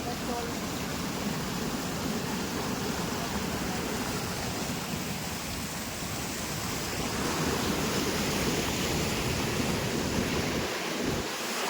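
Water rushing over the overflowing Shetrunji dam near Palitana, a loud, steady broadband roar that holds constant throughout, close to the flow, with wind buffeting the microphone.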